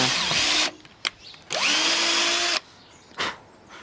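A power drill bores into wood while an adjustable ramp for RC cars is built: a long loud run of drilling with a rising whine, then a short burst and another brief spin-up, separated by quiet gaps.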